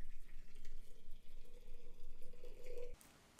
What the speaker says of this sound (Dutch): Ik pak de pan en ik giet het kokend water